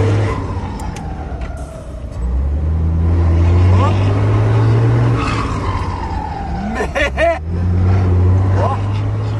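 A Brazilian truck with a loud, singing turbo whistles and winds up as it accelerates, the rising tone running under a steady engine drone and road noise, with voices talking over it nearby.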